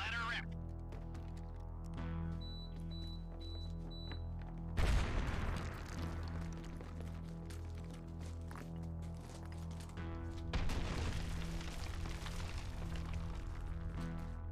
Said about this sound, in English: Plant the explosive and let her rip.